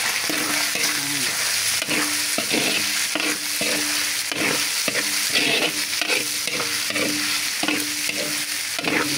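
Ground pork and sliced hotdogs fry in a pan with a steady broadband sizzle, while a utensil scrapes and stirs in repeated short strokes. The sound is close and continuous, with no talking.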